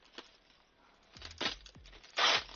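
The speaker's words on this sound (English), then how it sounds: "just peeling the tape off" Sticky tape peeled away in a few short crackly rips, the last one loudest, with light rustling of packaging between them.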